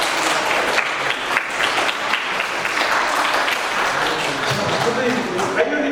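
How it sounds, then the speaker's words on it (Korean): Steady applause from a crowd at a string instrument concert welcoming the first violinist fills the room, dense clapping that continues throughout, with faint voices mixed in. "박수 주세요"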